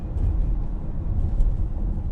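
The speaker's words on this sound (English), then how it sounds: "Interior of moving car engine." Inside a moving car, the engine gives a steady, low, close rumble of road and motor noise with no other sounds.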